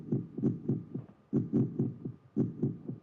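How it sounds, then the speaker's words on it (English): A steady lub-dub heartbeat plays as a menu sound effect in the video game Blood Omen, with about ten deep, muffled thumps in regular paired pulses and a faint hum beneath. "It's a fucking heartbeat."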